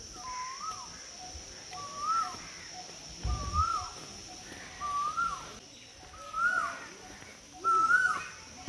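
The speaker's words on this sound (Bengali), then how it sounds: "এখানে ঢুকতেই খুব সুন্দর কোকিলের আওয়াজ শোনা গেল" At Fullara Attahas temple in Ketugram, Bardhaman district, West Bengal, a cuckoo (koel) calls repeatedly, about six clear rising-and-falling notes spaced roughly a second apart over a hissy background.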